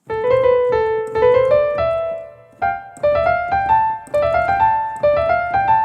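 Piano playing rapid runs of sixteenth-note rolls from Burgmüller's Arabesque, Op. 100 No. 2, in uneven rhythm, some notes lingering longer than others, in short bursts separated by brief pauses.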